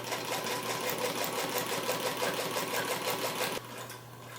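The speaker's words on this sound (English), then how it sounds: "I'm going to sew right on down, and I'm going to stop at the notch for the opening." Sewing machine stitching an invisible zipper down to the notch, a steady rapid needle chatter running for several seconds before it abruptly stops, leaving a faint hum.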